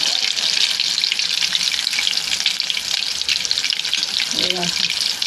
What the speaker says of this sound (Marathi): 2 3 टाकले ना तर असे पटपट निघतात आणि व्यवस्थित फ्राय होतात.